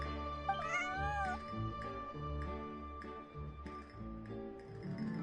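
A cat meows in the Genshin Impact video game, a clear rising-and-falling mew near the start over steady game music, with no talking.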